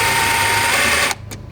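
An 8mm socket wrench loosening the intake clamp near the middle of a BMW S55 engine gives a loud, steady mechanical whirring buzz for about a second, then it cuts off into quieter faint clicks.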